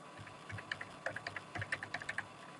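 Light keystrokes on a computer keyboard while searching a thesaurus, a scattered run of a dozen or so soft clicks with short pauses, fairly close and faint, with no speech.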